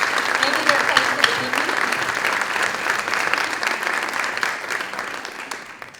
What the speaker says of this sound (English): would you please stand for a moment and let us give you some applause?